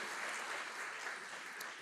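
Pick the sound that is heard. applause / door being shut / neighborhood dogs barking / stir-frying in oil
applause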